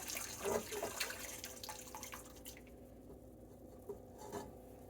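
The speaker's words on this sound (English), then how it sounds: "Our yeast, milk, sugar mixture has bloomed, so we're going to mostly pour it into the stand mixer." A bloomed yeast, milk and sugar mixture pouring into a stand mixer bowl: soft liquid splashing and trickling for a few seconds, then light clinks and drips fading into quiet room tone, fairly close and faint.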